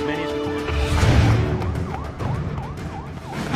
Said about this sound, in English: I heard sirens from all different directions.